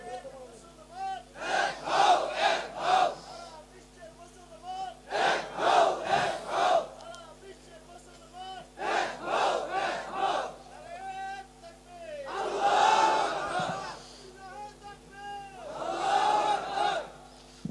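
Crowd at a religious sermon chants slogans in rhythmic loud call-and-response bursts, several repeated phrases shouted in unison with short pauses between, filling the space over a faint steady hum.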